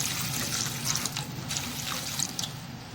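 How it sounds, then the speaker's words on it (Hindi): Water poured from a pan or vessel into fried masala of onion, spices and salt while cooking dal mash, a steady faint splashing pour with light trickling, no voices. "तो मैंने इसमें पानी डाल दिया, ये तकरीबन 2 कप पानी है"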